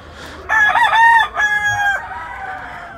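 A giro rooster crows loudly and close by on a farm, giving one long strained call with a shorter trailing tail, with no other voices around it.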